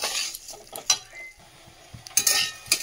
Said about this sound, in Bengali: চালটা দিয়ে একটু ভালো করে ভেজে নিই।